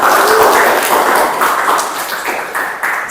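Sustained applause from a classroom of students, a dense, steady wash of many hands clapping together, loud and close for about three seconds and tapering slightly toward the end.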